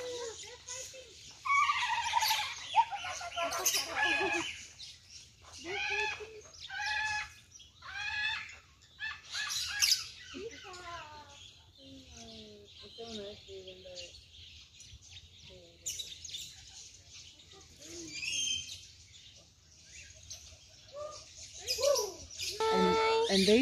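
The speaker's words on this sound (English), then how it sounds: "That's a peacock." A peacock calls repeatedly on Babak Island in Samal, loud high wailing cries mixed with other bird chirps, while people talk nearby throughout.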